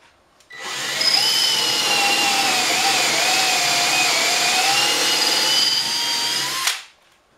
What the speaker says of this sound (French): simplement avec ma perceuse et la mèche de la bonne grosseur basée sur le goujon que je veux faire